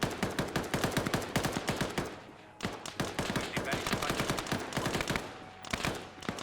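Gunfire from the turret of a BTR armoured vehicle in the military video game Arma 3: dense, rapid machine-gun bursts, loud and close, with a brief pause before the firing resumes.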